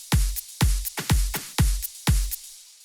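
A newly programmed electronic drum beat for a remix plays alone: punchy kick hits land about every half second, each trailed by a lighter, crisp hit, in a steady, dry loop.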